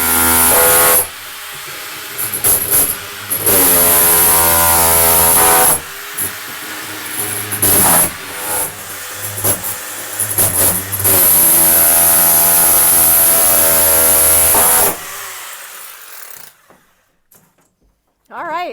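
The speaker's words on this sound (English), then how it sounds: "Shearing the heads of the rivets off." A power tool shears rivet heads off the metal walls of a school bus being converted, a loud sustained grinding hiss in long bursts with short pauses, stopping near the end.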